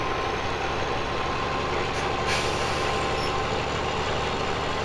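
The Big Bud tractor in Farming Simulator 17 runs at a steady heavy drone, a loud, constant low diesel rumble with no variation in pace and no talk.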